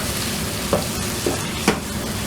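Egg korma masala with salt and turmeric being stirred in a hot pan, giving a continuous close sizzle with three soft scraping strokes of the spoon.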